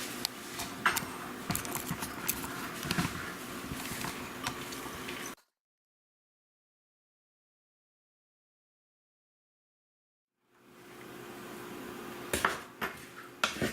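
Okonomiyaki batter ingredients, cabbage and salt among them, being stirred in a bowl, giving close clattering scrapes and utensil knocks against the bowl, broken by a long stretch of silence midway before the mixing resumes.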